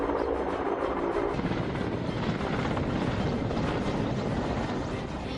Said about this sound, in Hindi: भीमताल के जंगलों में भी लगी आग को बुझाने के लिए हेलीकॉप्टर की मदद ली जा रही है